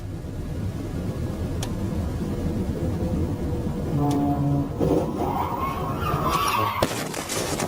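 Semi-truck skidding and crashing on a highway, caught from a police car's dashcam: a steady roar of traffic and wind, then tire squeal, scraping and sharp impact bangs in the final seconds, fairly loud with no talk.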